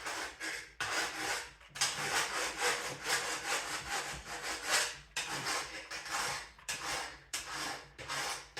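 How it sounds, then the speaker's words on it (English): Metal being worked by hand with a file, a steady back-and-forth rasping in strokes of about a second each, with short pauses between them, loud and close with no talking. "a little bit more filing and then we'll be done"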